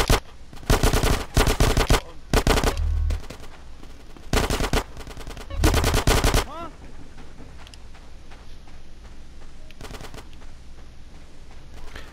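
Gunfire in GTA San Andreas, with loud bursts of rapid automatic fire coming in several separate volleys and single shots trailing off, while voices shout over the shooting.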